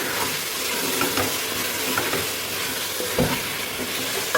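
Chicken malai karahi with spice masala being stirred in a pan, a loud close sizzle with repeated scraping and clattering spoon strokes against the metal, no speech.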